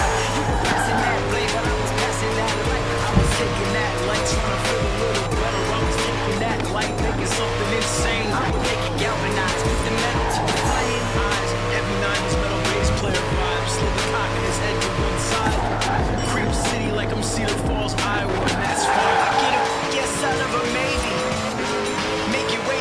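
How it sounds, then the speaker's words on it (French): A mega car driven at high speed on a road course, its engine roaring steadily and loud with tire noise and repeated surges, then easing off near the end; speech is heard faintly over it. "Tu viens de piloter la première méga car au monde."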